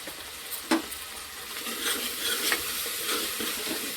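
Spices and homemade garam masala frying in a pan while being stirred, a continuous close sizzle with scraping stir strokes and an occasional clink, no talk.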